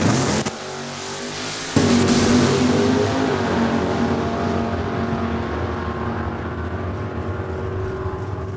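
Drag race cars, a Mopar against an Olds, roar loudly at a raceway, with a sudden surge of engine noise after a brief dip. The blare then fades slowly as the cars pull away down the track.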